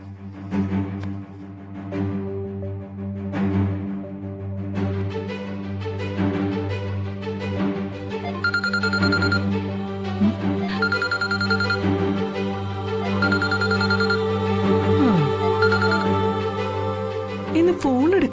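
A telephone left at home rings with a repeating electronic ringtone pattern over background music, with a voice speaking during parts of it.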